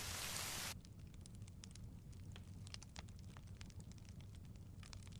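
Steady rain patters on surfaces close by, a dense crackling hiss of drops that begins after a brief burst of louder noise and continues evenly.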